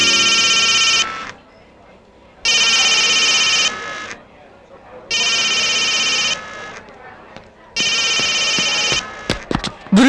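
A telephone rings loudly in four long, evenly spaced bursts with quiet gaps between, followed by a few brief knocks and clicks at the end.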